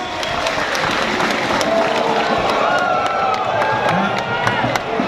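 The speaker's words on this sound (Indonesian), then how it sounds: "Tepuk tangan buat Bapak Firly Paulus" A large stadium crowd at the BRI Liga 1 2023 closing ceremony applauds and cheers, a loud continuous wash of clapping and voices with faint whistles.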